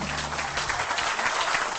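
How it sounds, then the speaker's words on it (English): An audience breaks into applause, a brief dense patter of clapping at moderate level, with a low voice fading out under it at the start. "Please clap."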